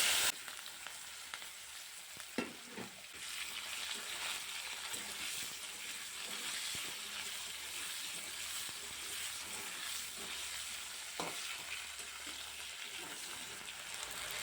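Newly harvested potatoes fry in oil in a wok with a steady, moderately quiet sizzle and hiss, broken by a few soft stirring clatters.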